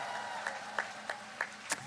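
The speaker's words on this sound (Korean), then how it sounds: "격려의 박수 부탁드립니다" At a Lee Jae-myung campaign rally in Gangseo and Yangcheon, Seoul, a crowd gives applause of encouragement. It comes through as faint, sparse claps spaced about a third of a second apart over a quiet, hazy background.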